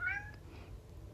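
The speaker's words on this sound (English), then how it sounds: "My cat wants out of my room." A house cat shut inside a room meows once, close and clear, followed by faint low rustling, with no speech.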